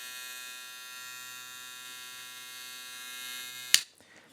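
A BRD 106B hair clipper runs with a steady, even electric hum held at constant loudness, ending in a brief click as it shuts off.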